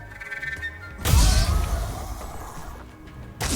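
Spell impact effect from a video game as time briefly slows: a heavy, loud crashing hit with a deep thump that rings out and fades over a few seconds, followed by a sharp new burst at the end.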